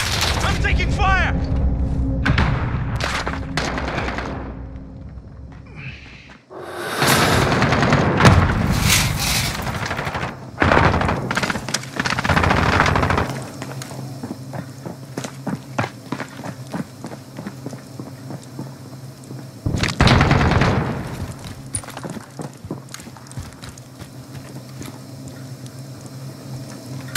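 Gunfire in Call of Duty: Modern Warfare, loud sharp shots and bursts in a busy multiplayer match, mixed with booming impacts and in-game voice callouts over a constant battle din.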